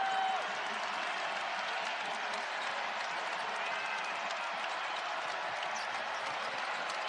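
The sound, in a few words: basketball crowd cheering and applauding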